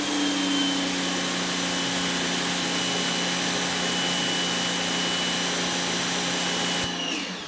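A Greenworks 2000 PSI electric pressure washer runs in a steady, loud, continuous whine with a constant motor hum, cutting off abruptly near the end.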